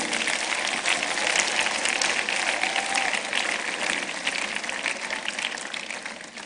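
An audience at a university inaugural lecture gives the lecturer a standing round of applause. The dense, steady clapping fills the whole stretch evenly and carries no talk over it.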